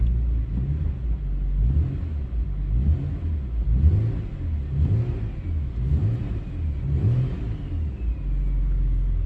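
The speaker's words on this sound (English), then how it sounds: "Just had it idling for a few minutes." Nissan Pulsar fitted with a newly installed turbo, engine running steadily with a low throbbing rumble and a rhythmic pulsing lope, close and fairly loud, with a faint whine above and no talking.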